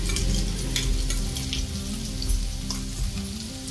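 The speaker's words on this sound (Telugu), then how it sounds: "ఈ వెల్లుల్లి కారం అనేది ఫ్రై అయిపోయి ఆ వెల్లుల్లిపాయలు పచ్చివాసన పోయి" Okra fries in a pan with a ground paste of garlic and chili, giving a continuous close sizzle and crackle with faint stirring scrapes and no voices.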